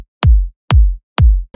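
Three punchy electronic kick drum hits for a future house beat, evenly spaced about half a second apart, each a loud deep thump with a sharp click on the attack and a short boomy tail, played alone with no voices.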